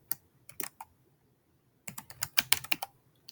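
Fingers typing on a computer keyboard at a desk, two quick bursts of key clicks separated by a short pause, close and fairly quiet with no talking.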